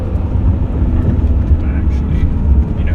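An older manual car engine revs while driving, a loud, deep, steady rumble with wind and road roar filling the sound close up, no breaks in the drone.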